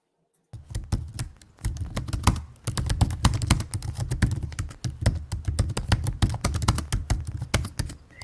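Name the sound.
typing on a computer keyboard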